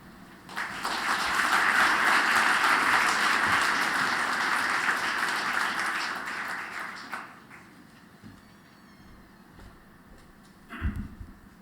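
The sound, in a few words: audience applause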